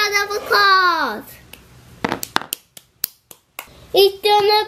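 A child claps hands in a short run of separate, uneven claps, with a child's sung and spoken voice before and after the claps.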